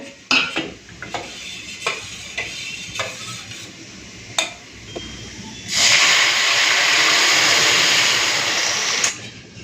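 A spoon clinks and scrapes against a pan of panch phoron tempering fried until red, then masoor lentil dal hits the hot oil and sets off a loud, sustained hiss that lasts several seconds before it cuts off.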